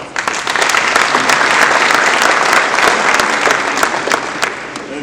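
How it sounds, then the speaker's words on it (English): Sustained applause from a crowd at an academic awards ceremony, steady and loud throughout, dense clapping with no voices over it. "Let's give her a round of applause."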